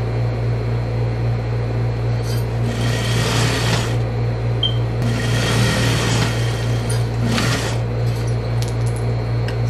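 Sewing machine stitching a seam to join parts of a blouse, running in a few short bursts of rapid whirring over a constant low electrical hum.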